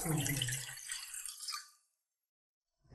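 A short, splashy pour of one glass of water into a pot for china grass barfi runs for under two seconds, then cuts off abruptly into silence.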